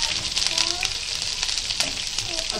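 Curry leaves and green chillies fry in a hot pan for a moong dal masala dosa filling, giving a steady close sizzle with small crackling pops throughout.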